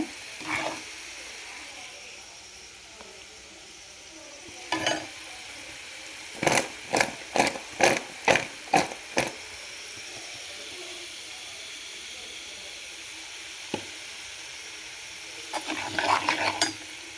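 Sugar syrup goes over fried sweets with a faint hiss, then a quick run of sharp, regular clattering bursts as they are tossed, with a few later rattles, all fairly quiet.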